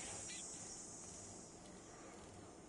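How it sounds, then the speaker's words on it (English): Cicadas in the video game 7 Days To Die buzz as a steady, high-pitched continuous drone that holds level throughout the short stretch, with low background game ambience beneath. "Oh, the sound of the cicadas."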